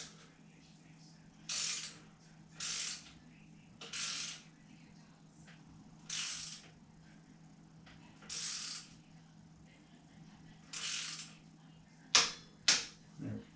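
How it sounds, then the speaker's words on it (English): A torque wrench with a 4mm Allen bit tightens a bicycle headset pinch bolt to 6 Newton meters, giving a series of six evenly spaced crisp ratcheting clicks at close range, ending in two sharper snaps as the setting releases. "And now we will get our torque wrench again."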